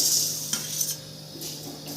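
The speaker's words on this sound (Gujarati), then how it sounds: "હવે આપણે ગોટલી નાખી અને શેકીશું આ રીતે આપણે હલાવ્યા કરવાનું" A soft, close sizzle with light scraping and clinking as a spoon stirs mango seeds roasting in homemade ghee in a pan.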